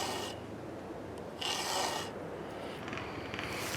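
A file rasps against a chainsaw chain in two or three bursts, the strokes soft and fairly quiet with short pauses between them.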